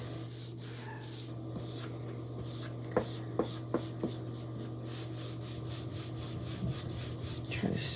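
Rubbing and smoothing a Chalk Couture transfer down onto a surface, heard as close, steady scratchy rubbing strokes with a few sharper taps, alone with no talk.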